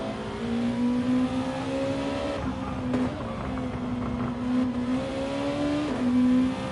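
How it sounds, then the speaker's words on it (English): Engine of a Honda NSX Gr.2 race car in Gran Turismo 7 at Grand Valley Highway 1 reverse, a steady droning tone rising and dipping through gear changes, loud and continuous throughout with no talk. "As Luco is now getting closer to the back of Bacchus in that Honda NSX."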